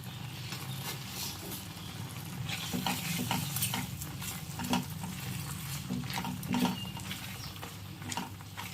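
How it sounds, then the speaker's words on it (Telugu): Banana halwa with a cup of sugar stirred in a pan over medium heat, giving a steady soft sizzle with faint scraping strokes throughout, close and continuous. "ఇప్పుడు ఇది స్లోగా మీడియంలో ఉంచుకొని బాగా కలుపుతూ ఉండాలి"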